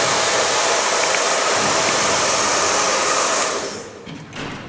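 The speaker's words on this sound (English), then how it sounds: "The hair dryer is really important because we don't want to sit there and watch all this dry." A hair dryer blows steadily at close range to dry paint on a Gundam model kit, a loud, even broadband rush that holds for several seconds before cutting off and trailing into quiet room sound.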